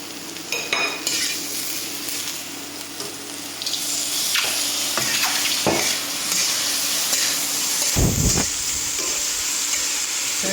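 Sauce hits a hot wok on an induction burner during a mixed pepper stir fry. Loud, continuous sizzling and bubbling follows, with stirring scrapes and a sharp burst near the end.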